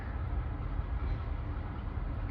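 A freight train switching cars at a rail yard in Kenova, West Virginia, a steady low rumble and rolling drone heard from a distance, with no distinct clanks, no talk.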